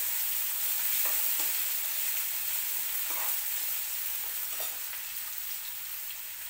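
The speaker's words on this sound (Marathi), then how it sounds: "लसूण आणि कांदा मस्तपैकी आता आपला भाजत आलाय." Garlic and onion fry in a pan with a steady, soft hiss of sizzling oil, a few quiet scrapes of stirring heard close by, fairly faint and without any talking.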